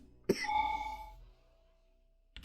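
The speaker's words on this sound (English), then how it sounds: "I appear to have got quite a bad cough as it stands at the minute" A single sharp cough from a person with a bad cough bursts out close and loud, then trails off into quiet, with a faint click at the very end.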